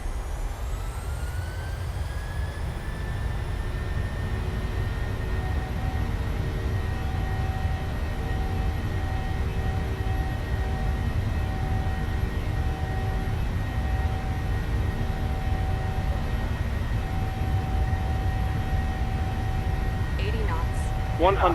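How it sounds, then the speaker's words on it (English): Boeing 737 engines in Microsoft Flight Simulator spooling up to takeoff thrust: a rising whine settles into a loud, steady jet roar with deep rumble that holds for the rest of the clip. "cleared for takeoff, Southwest 6287. Set takeoff thrust."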